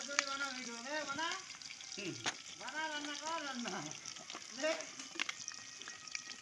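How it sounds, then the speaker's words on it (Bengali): Potatoes fry in hot mustard oil with a soft, steady sizzle and occasional stirring, heard faintly under a voice talking throughout. "আলুগুলো ভাজবো।"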